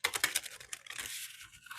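Oracle cards shuffled by hand, a quick run of crisp riffling and papery flicks up close, with no talk over it.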